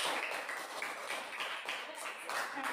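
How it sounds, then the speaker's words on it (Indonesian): A primary-school classroom claps in unison for a student group, a steady patter of many small hands clapping together in a brisk, even rhythm throughout. "Tepuk tangan untuk kelompok 1."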